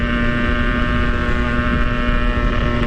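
A two-stroke motorcycle engine runs at a steady idle, a loud, continuous buzzing drone with a constant pitch and slight wind noise, no one speaking.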